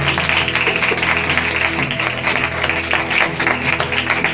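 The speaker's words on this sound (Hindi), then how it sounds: "अब इन दोनों हाथों को मिलाकर खुदावंद की जलाल के लिए ताली" A church congregation at an Easter Day service claps hands together in praise, a dense, steady wash of many hands under a sustained musical drone, continuous and fairly loud throughout.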